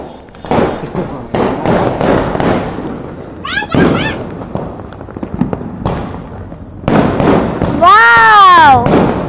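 New Year's Eve fireworks and firecrackers burst in a rapid string of loud, close cracks and pops, followed by a cluster of whistling rockets, while voices shout and exclaim among the bangs.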